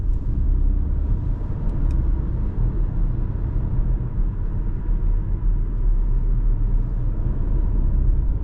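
A deep, steady engine rumble from a 2026 Geely Starray EM-i plug-in hybrid in power mode fills the cabin at night, loud and unbroken, with a couple of tiny clicks near the start and no talking.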